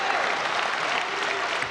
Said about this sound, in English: Just really cool to see the hometown fans cheering for our U.S. players.